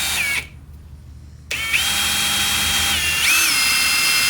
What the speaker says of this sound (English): I've already marked where I'm going to drill it.